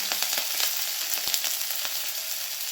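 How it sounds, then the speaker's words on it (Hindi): Chopped ginger, garlic and green chili fry in hot oil for street-style chowmein, giving a steady, bright, crackling sizzle with quick spits and pops and no talk. "अब मैं इसमें डाल दूँगी हमारे ये चॉप किए हुए जिंजर, गार्लिक और ग्रीन चिली"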